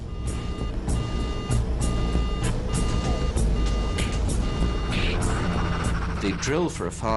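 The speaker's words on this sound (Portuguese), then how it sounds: "o alarme de incêndio do motor dispara" A repeating electronic alarm tone pulses steadily in a Concorde cockpit during an engine fire, loud and near over a droning engine background, with voices talking over it.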